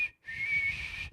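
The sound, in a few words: person whistling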